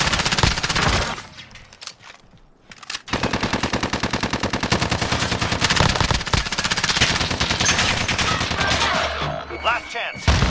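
Machine gun fire in Call of Duty Warzone, a long rapid sustained burst after a brief pause, loud and close, dominating the scene.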